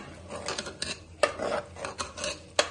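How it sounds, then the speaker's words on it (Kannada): Ground masala paste for boti curry stirred in a pan, with a spoon scraping and clinking against the metal in irregular strokes, fairly quiet and close. "ಮಸಾಲೆ ಎಲ್ಲ ರುಬ್ಬಿರೋದು ಹಾಕ್ತಾ ಇದ್ದೀನಿ. ಇವಾಗ ತಿರ್ಗೋಣ ಇದನ್ನ."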